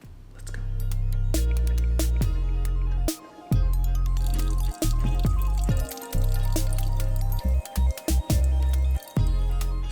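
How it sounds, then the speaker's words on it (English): A plastic baby medicine dispenser sucks up and squirts water holding brine shrimp into a betta fish tank, giving repeated wet squishes, drips and clicks close by over a steady low tonal hum. "suck them back up into this, and then into the tank"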